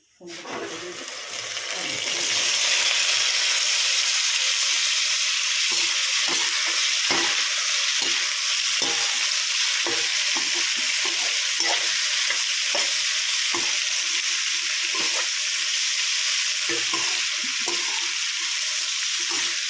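Potatoes fry in hot oil with cumin and coriander, a loud, steady sizzle filling the clip, with frequent scraping and clinking stirs of a spoon against the pan throughout.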